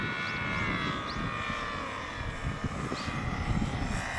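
Engine of a Nieuport 28 radio-controlled model airplane, a steady buzzing drone that holds loud and close for the whole stretch, with slight rises and dips in pitch as it passes overhead.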